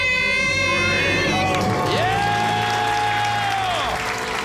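A studio audience on a radio call-in show cheers and whoops loudly and continuously for a debt-free scream, with a sustained rising tone riding over the crowd noise.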